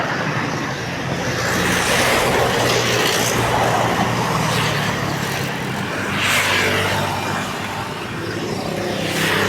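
Highway traffic heard from inside a moving vehicle, a continuous road roar with several vehicles swelling past, no talking.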